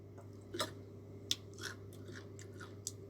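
Someone chews food close up while eating, with a few crisp crunchy bites and moist mouth sounds scattered irregularly over a quiet steady hum, with no talking.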